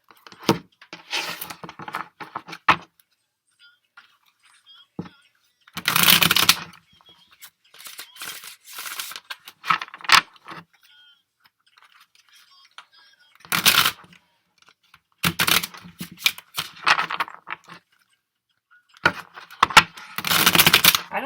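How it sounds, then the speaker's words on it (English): A deck of tarot cards is shuffled in repeated bursts, crisp riffling and flapping close to the microphone, separated by quiet pauses and softer sliding of cards. "let me shuffle the other deck and then we'll get into it"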